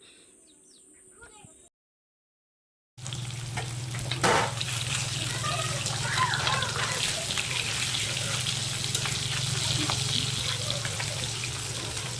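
Mrigal fish frying in hot oil in a kadai gives a steady, close sizzle with crackling spatter that continues throughout, following a brief quiet gap at the start.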